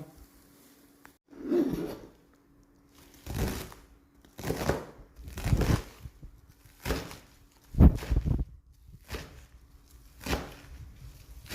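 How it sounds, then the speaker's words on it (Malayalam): A knife chops pumpkin leaves on a board in a home kitchen, giving seven or eight separate bursts of close, crisp cutting with short pauses between them and no talking. "ജസ്റ്റ് ഒന്നുകൂടെ ചെറുതാക്കി കൊടുക്കാം അങ്ങനെ ഫുള്ളും അരിഞ്ഞിട്ട് വരാം"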